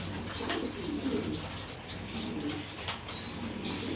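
Several pigeons, including a pair of newly hatched babies, coo repeatedly in soft rhythmic phrases close by, with faint chirps mixed in and no voices.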